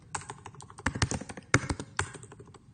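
Computer keyboard typing up close, a quick run of light, irregular key taps with a few sharper strokes, alone without speech.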